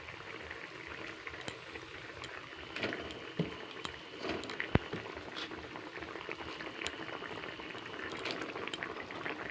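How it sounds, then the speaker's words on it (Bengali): Water coming to a boil in a pot for a pangas fish curry, a faint, continuous bubbling with scattered small pops and blips close by, no voices over it. "দেখুন জলটা ফুটে গেছে মাছের ঝোলের।"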